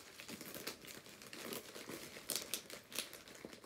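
A torn plastic mail bag being opened, with close, faint crinkling and rustling and a few sharper crackles, no voices.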